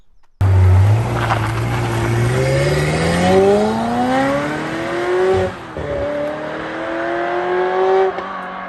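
A Ferrari 355 Spider's engine pulls hard on a sunny drive, its pitch climbing steadily through a long rev, dipping briefly at a gear change, then rising again, loud and close with no talk.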